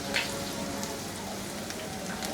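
Food frying in a pan over medium-high heat gives a steady, faint, hissing sizzle that continues evenly throughout.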